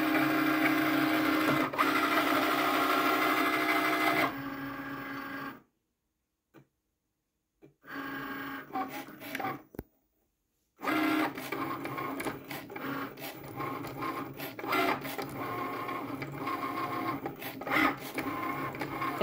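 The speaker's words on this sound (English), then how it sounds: "Now the machine will start cutting." A Cricut cutting machine slices holographic vinyl with a loud, busy whirring and rapid ticking of the carriage. The sound cuts out into near silence twice midway, then the mechanical buzzing resumes and runs steadily to the end.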